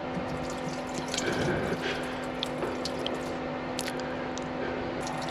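Water trickles and splashes from a hose removed during yacht maintenance, a steady close wet gurgle over a constant low mechanical hum, with no talking.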